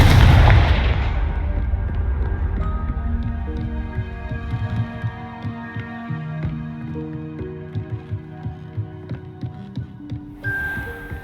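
A Confringo spell blast in Hogwarts Legacy erupts as a loud, broad burst at the start, then gives way to a low throbbing hum and steady tonal game music.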